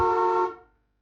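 A single motorbike horn blast sounds near and loud for about half a second, then quickly fades away into silence.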